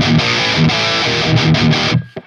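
High gain rhythm guitar through a dry, boosted 5150 amp model on a ToneX pedal, loud distorted chugging chords in short tight bursts that stop abruptly near the end.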